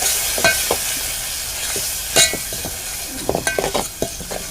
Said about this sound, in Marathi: आता मी त्याच्यामध्ये हे ढवळतो. आपला कांदा जरा शिजू दे